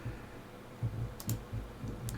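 Sparse, quiet key clicks from typing on a computer keyboard in a Windows note-taking app, a few separated taps over a soft room hiss with no talking.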